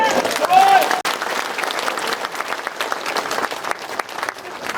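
An audience at a political speech breaks into loud, dense applause that carries on steadily throughout, with a brief shout rising near the start.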